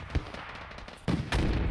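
Gunshots and explosions crack through a multiplayer war game battle, a sharp early shot followed by heavier, louder blasts and sustained fire in the second half, with no talk.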